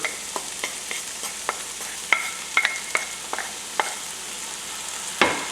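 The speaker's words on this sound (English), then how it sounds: "I'm going to give this a stir." Shrimp ranchero with about two pounds of added tomatoes being stirred in a sizzling pan, with steady frying hiss under irregular scraping and clinking of a utensil against the pan and a louder knock near the end.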